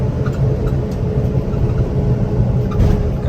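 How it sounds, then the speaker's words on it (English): Tires on a Honda Acty dump kei truck roar steadily on the road while driving, a loud continuous rumble mixed with low engine noise. "Tires are definitely noisy. I'm pretty sure you can hear that."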